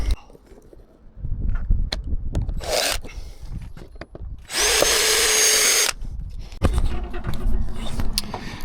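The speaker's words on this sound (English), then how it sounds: "I'll zip a screw in" A power drill drives a screw into plastic guttering at a downpipe install, a loud whirring burst with short buzzes before and after amid handling knocks nearby.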